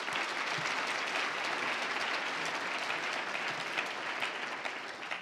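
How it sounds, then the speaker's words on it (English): A conference audience at an opening and welcome session claps loudly in a dense, unbroken wash that stays level throughout. "Let's give a great big round of applause."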